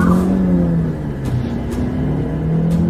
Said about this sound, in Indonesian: Dengan cepat mereka semua masuk ke dalam mobil dan pergi dari sana